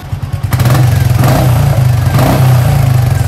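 Royal Enfield Meteor 350 motorcycle with an aftermarket exhaust, revving loudly up close with a deep, throbbing, steady exhaust note, with no voices.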